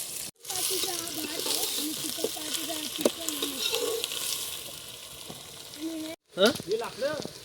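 Chopped onion frying in hot oil for a tempering, a steady close sizzle with a voice talking over it for most of the stretch. The cooking noise cuts out briefly near the end before more talk.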